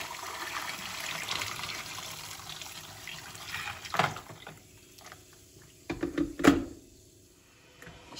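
Hot boiled water poured into a container of scratched drinking glasses being cleaned, a faint trickle and splash with a few louder clinks and pours midway, heard alone.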